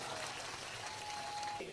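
A crowd of devotees at a rest stop on a religious foot pilgrimage claps steadily for the whole stretch, a dense, even wash of applause with voices mixed in.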